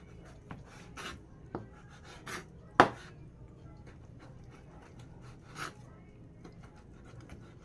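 Knife strokes slice through cooked beef tripe on a board, giving irregular soft thuds and scraping rasps, close and moderately quiet, with low background noise between cuts.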